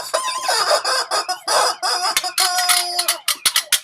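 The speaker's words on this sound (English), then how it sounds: "Chicken alert! Chicken alert!" A chicken sound effect, loud and close, with busy clucking and squawking that rises into a rooster-style crowing call, followed by sharp clucks.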